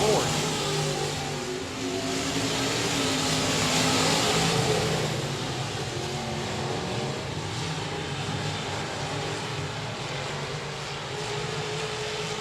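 IMCA modified race cars roar around a dirt speedway during a night heat race, a dense continuous engine drone that swells and fades slightly, with a commentator talking over it.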